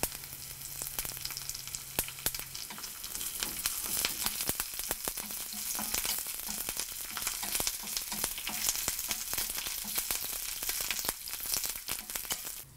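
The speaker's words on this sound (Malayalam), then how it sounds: "ഇതിലോട്ട് ബാക്കിയുള്ള 2 തണ്ട് കറിവേപ്പില കൂടിയിട്ട് വഴറ്റുക" Curry leaves and onions sautéing in a pan for mutton kurma, a constant soft sizzle with sharp scraping and clicking stirs scattered throughout, fairly quiet and close, with no voices.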